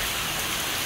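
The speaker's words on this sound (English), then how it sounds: "drink my coffee, watch the rain come down, and just chill" Steady rain falls outdoors, a dense, even hiss of drops hitting surfaces nearby, continuous and unbroken with no voices.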